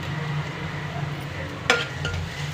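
Three chopped green chillies hitting hot oil in a pan while cooking a chicken curry, giving a steady low sizzle with a single sharp clink of a utensil partway through, close and fairly quiet.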